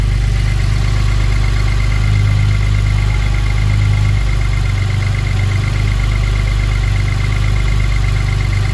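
A heavily modified 2011 Ford Taurus SHO idles close by, giving a loud, steady low rumble with a constant hum and no change in revs.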